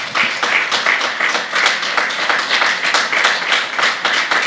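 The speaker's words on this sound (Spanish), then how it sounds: "dar un fuerte aplauso al Señor" A church congregation claps loudly and steadily during a Bible study service, dense overlapping handclaps sustained throughout with no talk over them.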